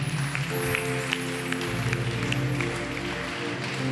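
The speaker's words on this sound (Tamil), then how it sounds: "கைத்தட்டுங்க பார்க்கலாம் தாவீதுக்கு" Church congregation clapping hands during a sermon, a dense continuous patter of applause over a sustained low musical drone, fairly loud and steady.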